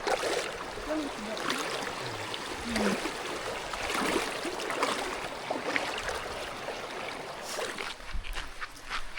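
A river flows steadily near a jungle trail at El Nido, Palawan, giving a broad, continuous rushing wash that stays loud and even throughout, with no voices.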